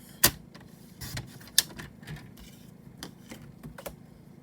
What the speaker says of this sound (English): Just kind of trimming right around the saying itself.